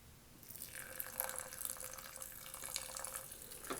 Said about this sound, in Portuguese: vou despejar a água